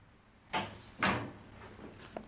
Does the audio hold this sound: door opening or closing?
yes